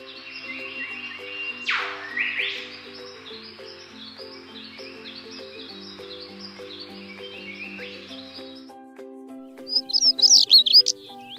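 Birds chirp at Pallikaranai wetland in Chennai: a faint, steady bed of tonal calls with a sweeping whistle early on, then a loud cluster of sharp chirps near the end.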